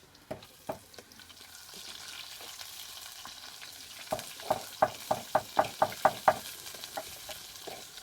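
Curry leaves, garlic, cinnamon, chili, mustard seeds and onion frying in oil for a Sri Lankan village feast, giving a soft crackling sizzle with a run of sharp, regular pops and clicks that build and fade, close, with no talking.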